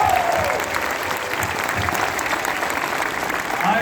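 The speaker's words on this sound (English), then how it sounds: "I do want to take this opportunity for all of us to give a round of applause to all" Applause from a university auditorium audience for the teachers present, a dense, steady clatter of many hands clapping that fills the room without pause.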